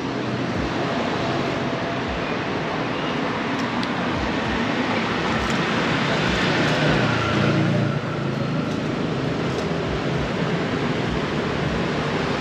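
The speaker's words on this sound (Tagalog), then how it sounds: "Sobrang traffic." Heavy early-morning road traffic gives a constant rumble of engines and tires nearby, loud and unbroken, with passing vehicles blending into one wash of noise and no talking.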